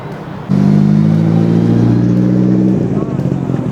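A Nissan S15 Silvia at a busy car meet at Daikoku parking area in Tokyo holds a loud, steady engine drone for about two seconds before easing off, with people talking nearby.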